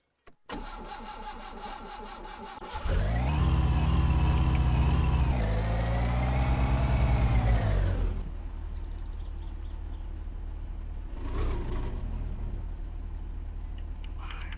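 A car engine in My Summer Car cranks and catches, revs loudly for several seconds with a rising and falling pitch, then drops to a steady idle, with a short second rev near the end.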